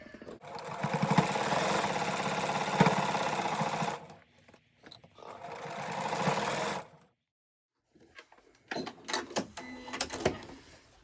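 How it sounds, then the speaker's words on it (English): A sewing machine back-stitches a tote bag strap at about an eighth-inch stitch: two long, steady whirring runs, a brief silence, then several short stop-start bursts, close and alone. "So I'm going to remove that pan. And I will do a back stitch just to help hold it in place."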